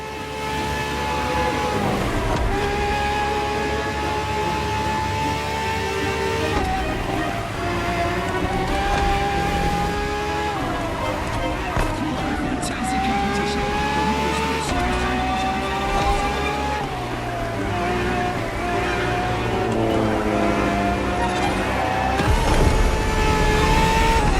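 Ferrari FXXK supercar engine on a racetrack, a loud sustained high-revving tone that climbs and drops repeatedly through gear changes, close and continuous with no voices.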